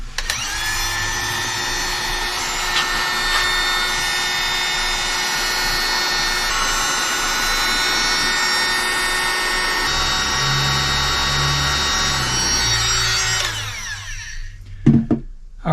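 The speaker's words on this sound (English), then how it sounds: "So we're going to go ahead and give that a shot with the heat gun here" A heat gun blows a steady, loud whining hiss with a constant tonal drone while heating thermoplastic to bend it, running continuously for most of the clip before cutting off into quiet handling clicks.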